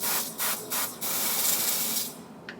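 Dior Airflash spray foundation is sprayed onto a makeup brush in several quick hissing bursts, then a longer spray that fades out.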